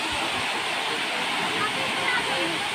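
A large water stream rushes steadily and loudly throughout, a continuous broadband roar with no breaks, like a waterfall close by.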